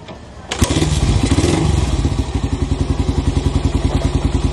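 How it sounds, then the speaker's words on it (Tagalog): Suzuki Raider 125 motorcycle with stock exhaust canister starting up, then settling into a steady, close, rhythmic idle putter. "Yan yung tunog ng canister natin pag naka-idle."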